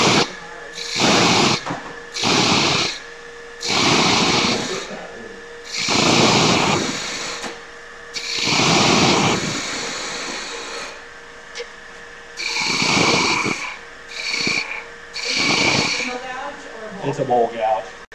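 A one-piece wooden scoop being turned on a lathe with a bowl gouge, with repeated bursts of rough, rasping cutting that stop and start between passes while the lathe's motor hums underneath.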